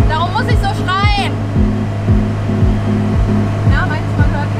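The loud motor of a boat heading to Malmö drones as a steady, deep hum with strong tonal harmonics. Voices talk over the engine noise throughout.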